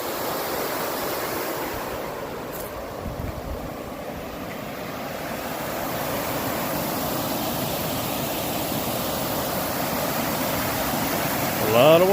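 Water pours steadily below a dam near a mountain-top lake, a continuous broadband rush that stays even throughout with a faint breeze, swelling slightly louder near the end.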